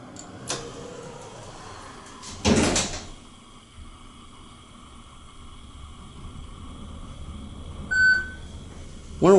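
A fast-opening hotel door in the Hilton Americas in downtown Houston gives a loud burst around the middle, with a softer clunk and a couple of electronic beeps near the end against quiet room tone.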